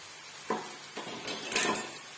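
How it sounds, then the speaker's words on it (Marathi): A spoon scrapes and stirs onion-garlic masala with coriander powder in a pan for chicken biryani, giving soft repeated scraping strokes over a faint, steady sizzle. "आणि छान असं परतू परतू घ्यायचं"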